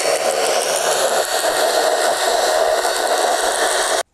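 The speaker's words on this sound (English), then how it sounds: "so I'll use a sander" A power sander grinds down a skateboard wheel, a loud, steady whirring buzz that runs unbroken for about four seconds before cutting off abruptly.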